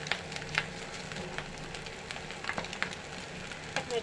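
Noodles with potato and Maggi masala fry in a pan while being stirred, a soft, quiet sizzle broken by scattered scraping and clinking strokes at an uneven pace.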